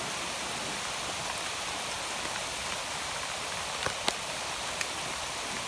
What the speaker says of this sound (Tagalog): Kahit tumulan, Simo, basang-basa na ako, Simo!